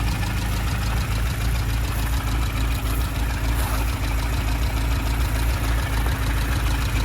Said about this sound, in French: on a un moteur qui tourne bien